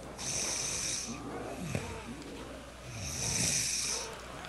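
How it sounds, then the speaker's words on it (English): Heavy, rasping breathing straight into a gaming headset microphone during a Call of Duty 4 zombies session, loud and close, in slow drawn-out breaths over a steady noisy background. "you're breathing really hard in your mic."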